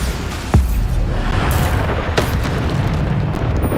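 Bombarda spell explosions in the Hogwarts Legacy video game, with booming blasts, one sharp hit near the start and another midway, set over a loud, continuous rumble of combat noise.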